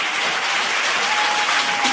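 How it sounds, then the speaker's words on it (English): An audience breaks into loud, sustained applause, a dense wash of clapping that holds steady throughout. "Let's give a round of applause to Elaine."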